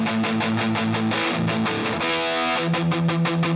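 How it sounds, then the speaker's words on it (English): An electric guitar plays through an overdrive stacked into a DC distortion set to smooth crunch, as part of a hair metal HeadRush rig. Thick, saturated chords and riffs ring out in rhythmic strums, loud and unaccompanied. "we're going to double stack our overdrive into a distortion"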